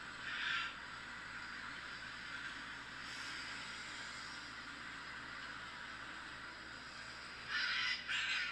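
Wild parrots squawk outdoors in three harsh bursts, one at the start, a faint one midway and a louder double at the end, over a steady background hiss.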